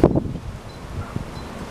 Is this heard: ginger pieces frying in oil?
no